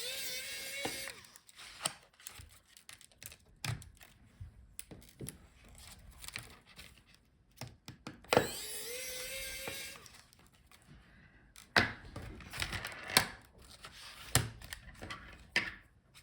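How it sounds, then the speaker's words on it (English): A power screwdriver backs screws out of an HP Omnibook 3 15 laptop palmrest. Two short, quiet motor whirs are scattered among light clicks and handling rattles. "Unscrew the screws on the top."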